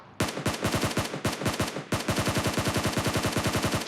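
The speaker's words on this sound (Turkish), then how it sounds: "Scar'la vurabilir miyim onu acaba?" SCAR assault rifle fire in PUBG Mobile: loud, rapid single shots in quick bursts with brief pauses between volleys, close and sharp, no talking.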